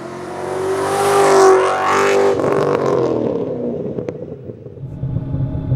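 A 1000 hp Shelby GT500 Super Snake accelerates hard on the road, its loud engine note rising in pitch through the revs, dropping sharply at a gear change, then pulling again close by with no talk.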